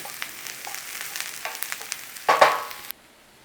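Tinned corned beef and onions frying in a pan, a close, steady sizzle with small crackles and pops that swells briefly into a louder hiss before cutting off.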